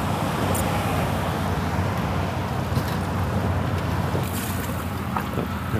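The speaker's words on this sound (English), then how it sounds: "Oh, that noisy engine." A noisy outboard boat engine running steadily on open water during a drum fishing trip, with a constant loud drone mixed with wind and water rush for the whole stretch.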